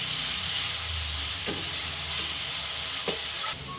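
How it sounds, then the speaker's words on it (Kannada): A spoonful of ginger garlic paste frying in a pan for an Andhra-style soya chunk gravy gives a dense, continuous hiss up close, broken by a few spoon scrapes and crackles, with no talking. "ಒಂದು ಸ್ಪೂನು ಜಿಂಜರ್ ಗಾರ್ಲಿಕ್ ಪೇಸ್ಟ್ ಹಾಕೋತಾ ಇದ್ದೀನಿ ಇದು ಚೆನ್ನಾಗೆ ಹಸಿ ವಾಸನೆ ಹೋಗ್ಬೇಕು"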